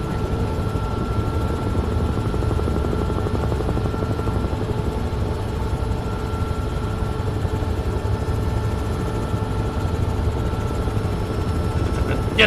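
A CH-47 Chinook or CH-46 helicopter in Microsoft Flight Simulator 2024 drones with a steady low rotor and turbine hum, continuous and even throughout.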